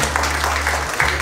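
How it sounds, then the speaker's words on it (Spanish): A crowd claps loudly and continuously at a mariachi queen coronation, with a low steady hum from music or sound equipment running beneath the applause. "¡Un fuerte aplauso,"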